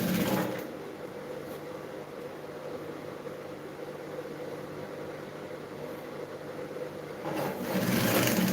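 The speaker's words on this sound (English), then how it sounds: "I'm also going to sew the lining, the right side facing the right side." A sewing machine stitching a lining, a steady even mechanical hum running for several seconds at moderate level with no talking, slight bursts at the start and end.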